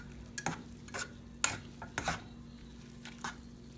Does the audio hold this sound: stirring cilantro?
yes